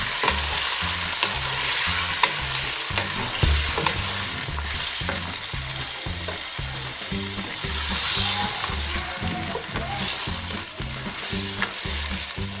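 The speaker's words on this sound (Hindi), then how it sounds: "अच्छी तरह फ्राई करना है।" Food frying and being stirred in a pan while cooking Pakistani dishes with ginger-garlic paste: a steady loud sizzle throughout, with repeated rhythmic scraping and clacking of the spoon against the pan, no talking.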